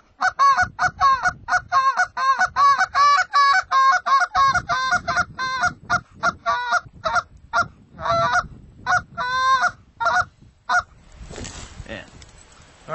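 A hand-held goose call mimics several Canada geese chattering back and forth, with rapid loud honks and clucks in quick overlapping bursts, then slower, lower-pitched single calls toward the end.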